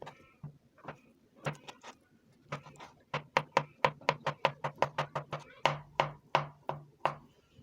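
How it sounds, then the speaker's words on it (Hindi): A knife finely chopping peeled boiled potatoes on a board, a close run of crisp knocking strikes that starts sparse and settles into a quick steady rhythm of over twenty chops. "तो इसको हम बारीक बारीक चॉप कर लेंगे।"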